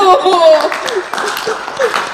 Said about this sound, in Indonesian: Yuk tepuk tangan yuk.